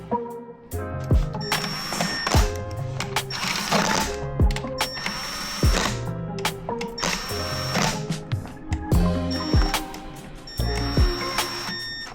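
Bolts being tightened on a Ram 850RE eight-speed transmission valve body, heard as close, rapid ratcheting clicks in repeated bursts with brief pauses between them and no talking.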